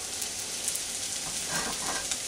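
Grated potato hash browns cooking in an oiled pan make a soft, steady hiss and crackle, even and continuous with slight swells, close by and without talk.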